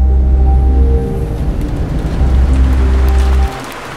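Rain falls on a street, a loud steady wash of noise mixed with sustained tonal hum, holding evenly before dropping off abruptly near the end.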